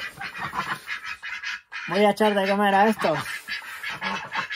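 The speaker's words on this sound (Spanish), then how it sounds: "a mis patos" Farm ducks on a snowy winter morning honk and quack loudly at feeding time, their calls clustered in a short burst while someone talks close by.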